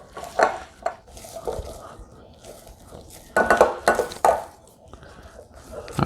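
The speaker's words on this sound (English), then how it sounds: "Just give it a good strong mix." Macaron batter being mixed hard in a bowl, with repeated scraping and clinking strokes in uneven bursts, loudest near the middle, close up and with no talking.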